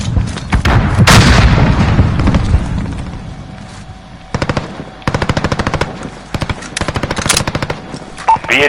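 Close, loud video game combat: a grenade blast and a stun grenade bang, followed by rapid bursts of automatic gunfire in short, repeated volleys with a booming explosive rumble early on.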